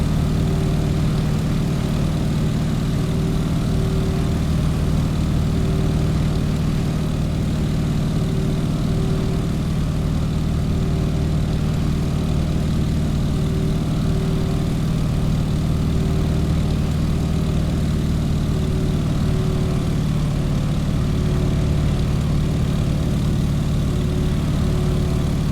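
Stearman biplane engine in Microsoft Flight, a steady low propeller drone that hums on without a break for the whole stretch, loud and close, with no voices over it.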